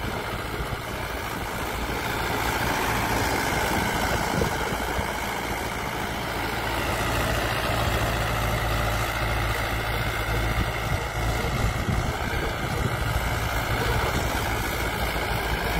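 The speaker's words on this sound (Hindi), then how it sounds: "बिल्कुल क्लियर आवाज निकाल रहा है, कोई ऐसी मुश्किल वाली बात नहीं है ट्रैक्टर को।" A Mahindra 575 DI tractor engine idles steadily for the whole stretch, a continuous low chugging rumble close by, with no talking.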